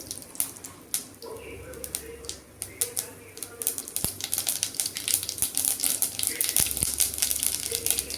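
Mustard seeds splutter and pop in three spoons of hot oil as a tempering for a banana flower kootu, a dense crackle of rapid sharp clicks building in intensity over a low background hum.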